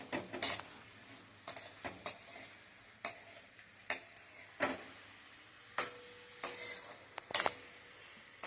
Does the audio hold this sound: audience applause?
no